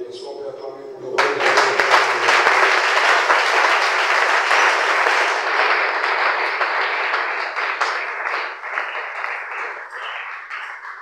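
A church congregation bursts into loud, sustained applause and cheering after a brief spoken lead-in, the clapping dense and full for several seconds before thinning out toward the end.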